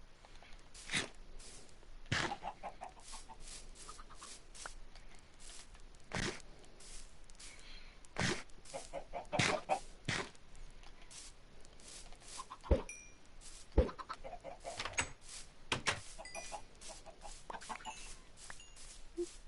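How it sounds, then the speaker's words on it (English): Chickens clucking in the Minecraft video game, a scattered series of short, sharp clucks and squawks repeating irregularly over a quiet background, fairly soft throughout. "let's feed the chickens"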